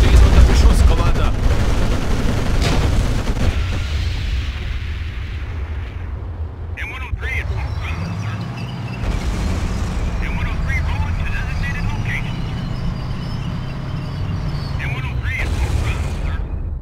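Battlefield gunfire and explosions hitting units in the Cold War strategy game Codename Panzers Cold War, with booming blasts and rattling shots over a steady rumble, while a voice speaks over the combat throughout.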